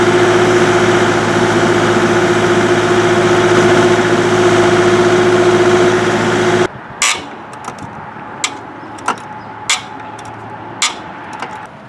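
Kubota KX040-4 excavator engine idling steadily with a loud, constant low drone while the track is raised, then cutting out, leaving a few sharp metallic knocks and clanks spaced apart.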